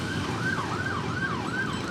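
An emergency vehicle siren wails on a street in Saigon, a steady rising-and-falling wail repeating about every half second, loud over a constant rumble of city traffic.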